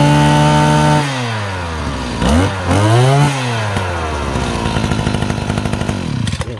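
A two-stroke brush cutter engine, first idling at a high buzz, then revved up and down in sweeping pitch swings before settling into a fast, slightly rattly rhythmic running sound, loud and close.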